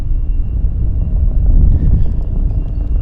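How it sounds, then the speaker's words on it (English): A helicopter flying near Vancouver airport, a steady low droning rumble that stays continuous and fairly strong, mixed with wind buffeting on the microphone and no talking. "I hear a helicopter."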